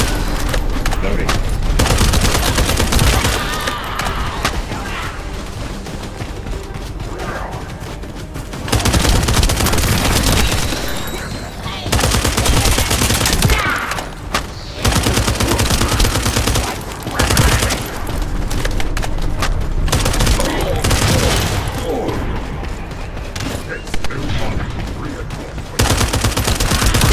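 Gunfire in the video game The First Descendant, loud, dense bursts of rapid automatic shooting and booms, repeated in long stretches with brief gaps, close and heavy throughout.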